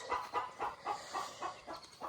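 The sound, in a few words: chickens clucking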